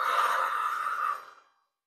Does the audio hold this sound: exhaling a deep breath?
yes